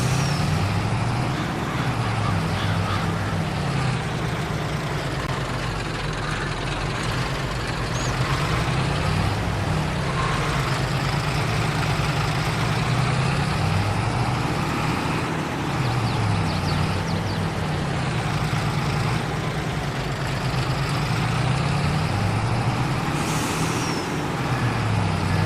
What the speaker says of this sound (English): Take the truck back up to the dairy.